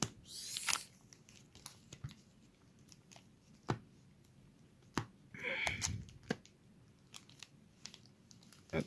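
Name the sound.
tearing open a Super C17 trading card booster pack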